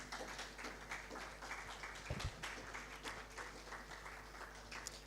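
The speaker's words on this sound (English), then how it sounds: "A round of applause" Faint, steady clapping from an audience at an awards ceremony, heard at a distance over a low hum, with a brief thump partway through.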